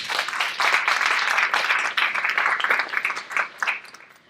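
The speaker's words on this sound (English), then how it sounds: "So give yourselves a round of applause." An audience of parents and students claps loudly and continuously at an Italian junior honor society induction ceremony, a dense close round of applause that tapers off near the end.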